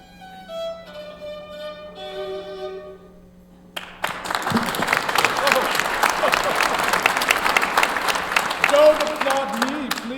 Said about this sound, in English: Don't applaud me, please.